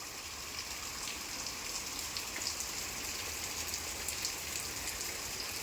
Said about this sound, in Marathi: पाऊस काय थांबायचं नाव घेत नाही आहे.